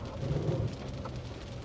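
Torrential rain pours during a storm in Newkirk, Oklahoma, heard from a car wash: a dense, steady wash of rain with a low rumble underneath, close and continuous with no talk.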